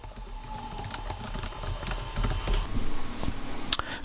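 Text being typed on a computer keyboard, heard as a close run of quick key clicks over a low background hum.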